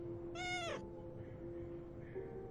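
A single short, high meow from a cat in the Everyday Devil video game, clear and close against a quiet, steady background hum, with no talking.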